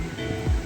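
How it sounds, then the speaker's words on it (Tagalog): Strong sea waves rolling in before a storm on the Mindanao side, a brief, close, low rushing surge with wind noise and no talk. "Tapos ngayon, grabe yung kusog ng alon."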